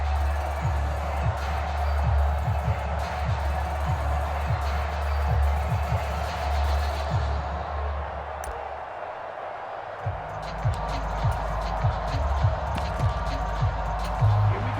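Stadium crowd roar in the Madden NFL 23 football video game, a steady loud wash of fans with rhythmic low thumps, dipping briefly before swelling again near the end.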